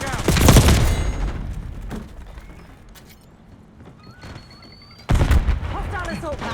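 In Call of Duty Black Ops 6 multiplayer, a loud burst of gunfire and a grenade blast hit at the start, quieter rattling follows, then another heavy explosive burst near the end, with brief callout voices between.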